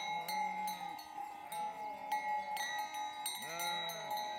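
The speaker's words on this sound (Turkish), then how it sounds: "Buradaki koyunların hepsi orijinal karayaka koyunları." Several Karayaka sheep bleat repeatedly on a highland pasture in Ordu, Turkey, overlapping one another at close range, with a steady ringing tone throughout.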